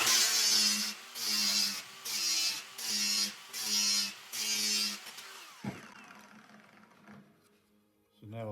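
A grinder works plastic ridges off the back of a pond return fitting in six even bursts of a loud, high buzzing whine, each broken by a short pause, before the work falls quiet with faint handling noise.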